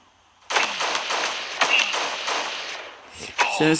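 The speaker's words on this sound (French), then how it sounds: "il y a déjà un ennemi là-bas. On va le sniper." Sniper fire in the mobile shooter game Guns of Boom: a few sharp, loud shots spaced about a second apart over continuous game background noise, ending in a final crack and a ringing tone.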